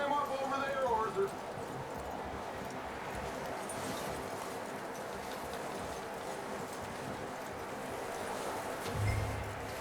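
A horse's hooves clip-clopping at an even walking pace in the video game Red Dead Redemption 2, steady and moderately close, with someone talking over them.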